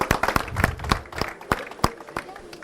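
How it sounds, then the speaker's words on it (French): A small audience at a photography conference on strobe flash lighting gives sparse applause, a handful of separate close claps in an uneven rhythm with some speech mixed in. "Public, vous pouvez applaudir Sylvie."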